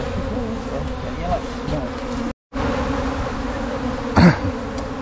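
Apis honey bees swarm around a fallen tree trunk, a dense, loud, continuous buzzing close by that fills the whole stretch, broken by one brief cut-out and a louder flare as a bee passes near.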